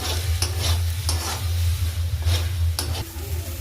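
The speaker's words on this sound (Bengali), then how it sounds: "এবার মশলাটা ভালো করে কষতে থাকবো" Chilli, coriander, cumin and turmeric spice paste sizzles steadily in a pan while being stirred, with periodic scraping strokes over a continuous low frying hiss, close and fairly loud.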